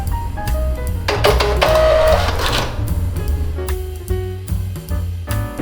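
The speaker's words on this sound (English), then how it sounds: "now we're going to print a test" A Star TSP143IV receipt printer prints a test page, a close mechanical whirr and chatter of the feed and print head with short tonal beeps and clicks, busy and continuous, then a few stops and starts.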